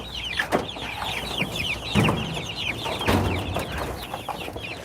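Backyard chickens cluck and chatter in a steady, busy flock, close by, with a few louder bursts and rustles breaking through.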